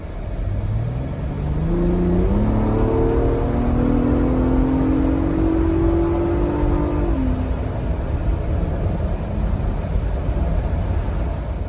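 A Ford Bronco Raptor engine on a dyno pull revs steadily upward through the gears, a loud, smooth rising drone that peaks and then settles into a steady rumbling whir, with no voices.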